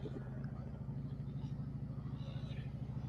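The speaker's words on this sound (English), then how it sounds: "Oh, you hear that exhaust?" Deep, steady engine rumble with a throaty exhaust note, continuous and moderately close, with faint voices underneath.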